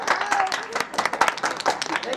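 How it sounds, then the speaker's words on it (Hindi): Applause at an outdoor folk comedy stage show as a politician is invited up: a crowd claps in quick irregular bursts, fairly faint, with voices mixed in. "तालियां"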